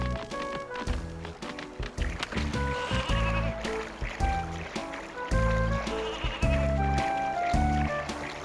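Sheep bleating in the N64 game Ribs Crusade, with repeated loud bleats layered over a busy game music track and rhythmic in-game sound effects.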